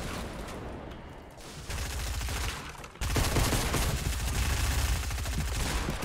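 Rapid SMG gunfire in the Fortnite video game, dense bursts of automatic shots that build and continue loudly through the whole stretch with no talk over them.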